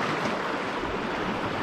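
Ocean waves at a beach, a steady loud wash of surf mixed with wind noise on the microphone, continuous and close with no talk.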